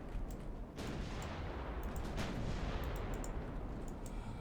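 Heavy battleship gunfire in the naval video game Ultimate Admiral Dreadnoughts, a dense rumbling barrage of booming shots rolling continuously with sharp cracks scattered through it, no voices.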